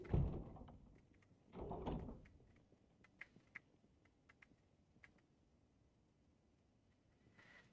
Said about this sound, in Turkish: Kapı niye kapanmıyor abi?